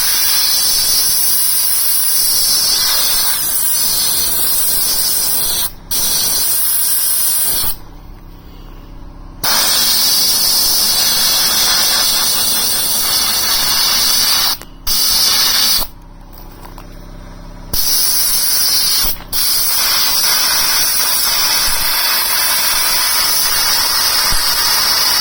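Homemade DIY sandblaster blasting, a loud harsh hissing roar of air and grit in long bursts separated by short sharp cutoffs and quiet gaps, close and without speech.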